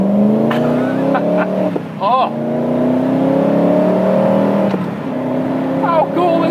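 A supercar's engine drones and revs under acceleration, a loud, close tone climbing through gears with short dips at the shifts, while a person briefly exclaims over it.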